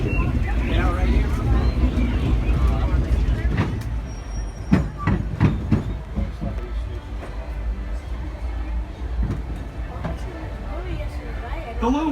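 Disneyland Railroad train running, a low steady rumble of wheels and cars with scattered clanks and knocks, passengers chattering throughout.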